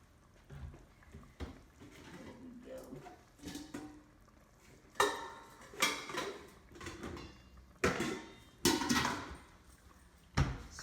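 Metal pots and a colander handled in a home kitchen while stuffed shells are cooked, a series of irregular clanks, taps and knocks, some louder and sharper, with short quiet gaps between them.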